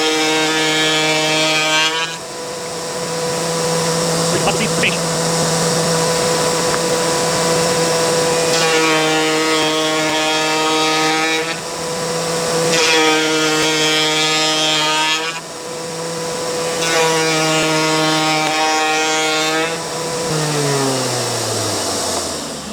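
Router table cutting a black walnut raised panel, a loud, close, high-pitched motor whine with repeated passes as the cutter bites the wood, brief quieter gaps between cuts and a winding-down tail at the end.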